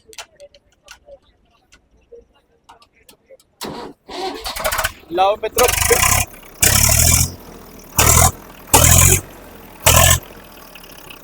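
A 2012 Binding tractor engine is started with the self-starter at a market: quiet clicks, then loud repeated bursts of engine noise. Someone speaks briefly in between.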